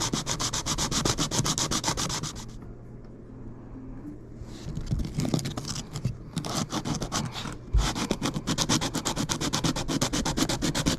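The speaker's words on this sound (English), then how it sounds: "Still have a little bit more pencil line to go, so I'm going to just keep filing it down." Ukulele saddle made of plastic or bone being sanded against sandpaper to lower the action, a close, steady rhythmic rubbing and scraping that pauses briefly partway through, then resumes in quick repeated strokes.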